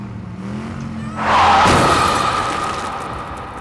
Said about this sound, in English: Suddenly we hear a loud sound from a car.